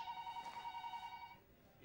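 A telephone rings once with a sustained electronic bell tone, fairly quiet against a faint room background, then stops and fades.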